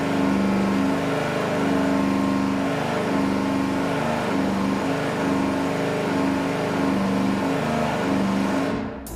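An engine held at a steady 3,000 RPM on a dyno during a rod ratio comparison test, a loud continuous drone with stable harmonic tones, no talking, cutting off at the very end.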